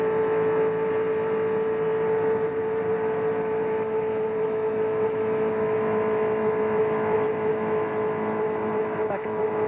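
Pack of NASCAR stock cars from the 1999 Gatorade Twin 125s sweeping three wide off turn four, a dense steady roar of engines with a strong sustained tone throughout, no talk.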